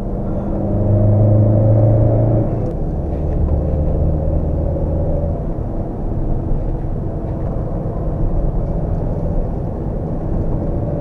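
A Peugeot 607 2.2 HDi 16V diesel sedan with 180 horsepower drives along curvy roads, a steady low engine and road rumble heard from inside the cabin, rising and easing slightly as it moves through bends.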